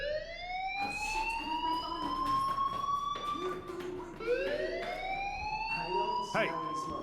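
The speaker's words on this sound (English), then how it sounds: "do you hear that fire alarm?" Fire alarm in the video game Life Is Strange, a long rising and falling siren-like wail that keeps sweeping up in pitch, loud and continuous, with speech and brief knocks underneath.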